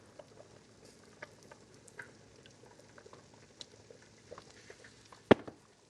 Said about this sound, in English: we're just gonna drop some of our dough here into the boiling water